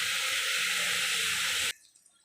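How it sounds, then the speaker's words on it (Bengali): Water runs steadily from a tap into a mug while rice and mung dal are rinsed, a loud continuous gush that cuts off abruptly near the end, leaving faint drips. "তো এটা ধুয়ে দেব, আর জলও দিয়ে দিয়েছি, আর একটু জল লাগবে।"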